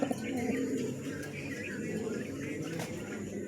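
Pigeons kept for sale coo in low, rolling murmurs alongside faint chirps, a steady close chorus against background noise.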